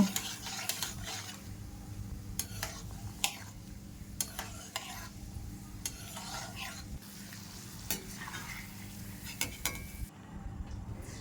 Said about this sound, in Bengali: এবার চেনা বাদামগুলো ভেজে তুলে নেব।